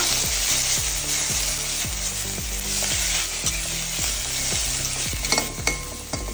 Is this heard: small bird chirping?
no